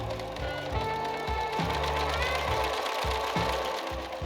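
A sewing machine runs straight stitches through woven lining fabric for an evening gown, a continuous loud mechanical whir with rhythmic thumping pulses, close up with no talk.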